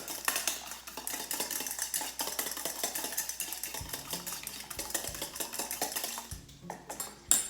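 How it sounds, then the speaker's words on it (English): An egg is beaten with a fork in a bowl, a rapid run of light clinking taps against the dish, fairly close and fairly quiet, with a few louder knocks toward the end. "This is how my mom used to show me how to mix an egg with a fork"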